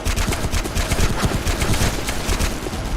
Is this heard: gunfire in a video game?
yes